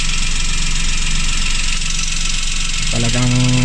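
A car engine idles steadily during a battery test, a loud, even drone throughout, with a tonal whine rising near the end.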